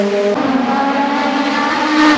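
IndyCar race cars roar through the gradual right-hand corners of the Toronto street circuit, a loud, sustained high-pitched engine whine that shifts pitch as a car passes close by, with no voices.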